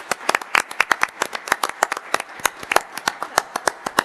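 A small audience at a city council meeting gives a round of applause, sparse individual hand claps at an uneven rhythm, fairly close and clear, with no talking over them.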